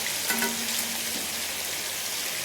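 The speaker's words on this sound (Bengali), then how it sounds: "এদিকে আমার রুই মাছগুলো ভাজাই হয়ে গেছে প্রায়" Rohu fish pieces fry in hot oil for a Bengali fish curry, giving a steady, dense sizzle that fills the whole moment, with a brief scrape near the start and no voices.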